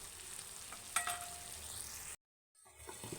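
Chicken pieces sizzling in oil with chili powder, a steady close frying hiss with a brief stir clink, then the sound cuts out for a moment and the sizzle resumes.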